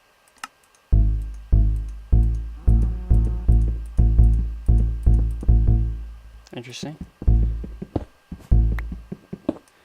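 Repeated piano-like tones from a wooden note block in a Minecraft-style game, a steady series of about ten plucked notes each decaying quickly, followed by clicks and keyboard taps while a person speaks briefly.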